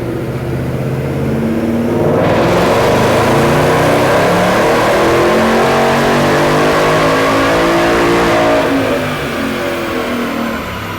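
A supercharged 2018 Mustang GT with a Roush Phase 1 blower and Roush calibration revs hard on a dyno, climbing in pitch through a loud sustained pull with whine, then backing off near the end.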